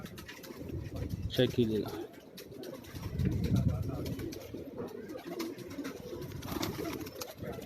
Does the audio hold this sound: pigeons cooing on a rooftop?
yes